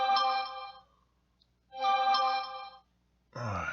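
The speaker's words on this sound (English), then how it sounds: "Stinking phone always goes off." A mobile phone rings nearby in two bright, melodic bursts about a second long, separated by silence, before a third ring begins.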